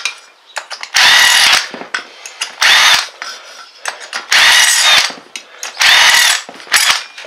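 A power drill cleaning out holes in a Ford Expedition center hub cap, loud grinding bursts of about a second each, separated by short pauses with small clicks and handling noise.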